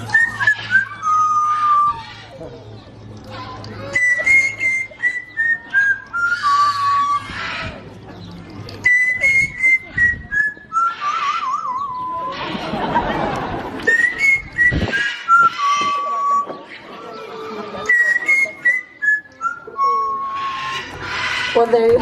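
A trained bird named Fernando whistles an improvised tune at a safari park show in Ontario: repeated bright, clear whistled phrases with rising and falling notes, near and loud, over a faint crowd murmur and a burst of background noise midway.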